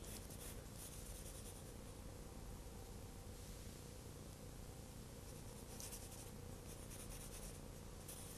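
A drawing tool is rubbed back and forth across a sheet of paper to cover the whole surface, giving a steady, close, continuous scratchy rustle that lasts throughout with no pauses and no voices.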